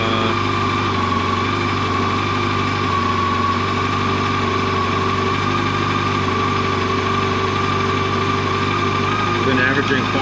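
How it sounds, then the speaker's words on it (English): A 2024 Yamaha FJR 1300ES motorcycle idles steadily while warming up before its first service, a loud, even engine hum held throughout with a faint voice underneath. "So we'll fire it up and let it warm up for 5 minutes."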